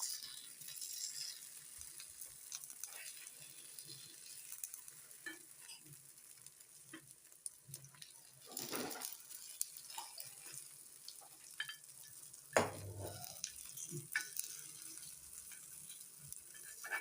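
Kuzhi paniyaram sizzles and fries in a pan, a continuous soft crackle under occasional scraping and stirring clicks as the pieces are turned, with no talk.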